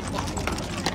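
Horse hooves clip-clop at a horse market, a quick run of sharp hoof strikes close by, under the murmur of people talking.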